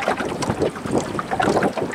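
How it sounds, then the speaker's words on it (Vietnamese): Strong north wind gusting over Mekong Delta floodwater, a steady roaring rush with water lapping around a small boat, loud and close with buffeting on the microphone. "Gió bắc."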